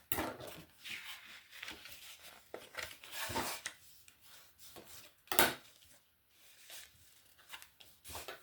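Fold lines being scored on paper for a homemade Halloween scrapbook case, heard as a series of short, faint scraping and rubbing strokes with small taps and pauses between them, close up and without talk.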